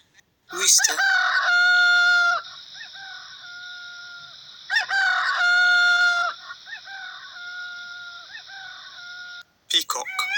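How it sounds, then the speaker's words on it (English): A rooster crows loudly and nearby, two long cock-a-doodle-doo calls with a short break between them, followed by a brief start of a third. "Rooster."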